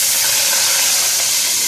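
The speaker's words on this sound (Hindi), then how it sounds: "इसमें थोड़ा सा पानी डालेंगे" Water hits a hot pan while Singaporean rice is being cooked, giving a loud, steady sizzling hiss that lasts the whole short moment with no talk.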